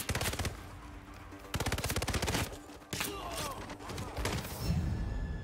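Rapid bursts of automatic gunfire in the video game Hitman 3, with dense machine-gun volleys broken by short pauses and lighter scattered shots, loud and continuous throughout.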